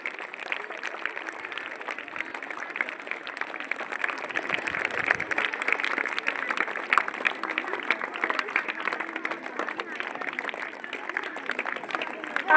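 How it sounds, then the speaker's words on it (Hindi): A seated audience at a stage event claps in a continuous, even wave of applause to welcome a guest up, sustained throughout at moderate loudness. "और जोरदार तालियां बजाकर काकी जी का स्वागत करें।"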